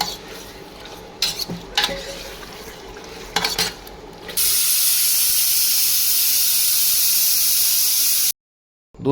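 A pressure cooker with chicken inside lets off a loud, continuous steam hiss for about four seconds. Metal clinks and stirring are heard before it, and the sound cuts off abruptly.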